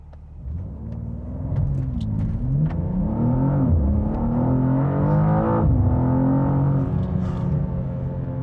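A 2025 BMW M2 engine revs up hard, accelerating to 100 km/h, and climbs through its range, a loud steady roar building with a brief dip as it shifts gear.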